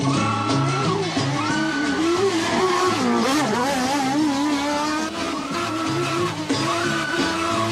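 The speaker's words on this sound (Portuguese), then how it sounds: "Um campeonato onde só compete esses carros velhos." Old but highly tuned cars race in a championship, engines roaring loud and continuous as they rev up and down through gear changes, with no talk over them.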